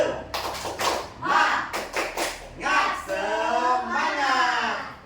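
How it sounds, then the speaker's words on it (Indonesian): Students in a classroom perform a rhythmic spirit clap, quick bursts of hand claps in a patterned beat mixed with group chanting and shouting. "Coba mana tepuk semangatnya?"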